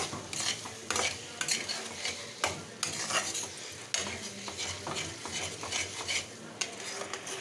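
Spiced fish head curry stirred and fried in oil in a pan, with steady scraping of a spoon against metal over a continuous close sizzle, and no talk.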